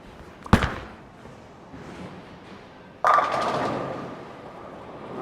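Bowling ball released onto a league lane with a sharp thud, rolling quietly, then crashing into the pins with a loud clatter that rattles on as they fall.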